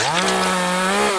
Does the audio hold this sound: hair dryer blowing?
no